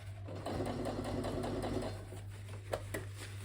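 A sewing machine runs steadily, stitching a size 36 workwear jacket sleeve, its close mechanical whir holding for a couple of seconds before easing off, with a few light clicks of fabric handling.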